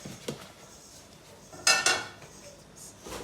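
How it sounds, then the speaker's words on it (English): A few soft clinks, then a sharp clatter as plantain pieces drop into a metal pot of boiling water, followed by quieter knocks. "transferring them into the pot"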